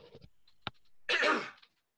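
A short throat clear followed by a single harsh, breathy cough, close and fairly loud, then silence.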